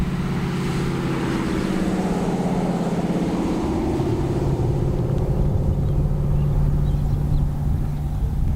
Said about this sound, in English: this thing, you can just lay into it, and it sounds like a Mustang